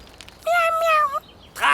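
A cartoon cat that has just been rescued gives one clear, rising-and-falling meow lasting under a second, set between snippets of animated background sound.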